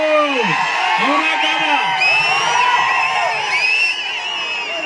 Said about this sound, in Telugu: ఇది స్వచ్ఛందంగా వచ్చిన ప్రజా చైతన్యం ఈ ఉత్సాహం చూస్తే ఇంక జగన్